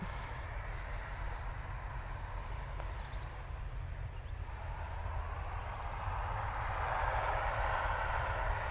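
An ATR turboprop airliner takes off from Dublin Airport on runway 10 right, a steady broad engine roar that holds level and swells louder toward the end with no voices over it.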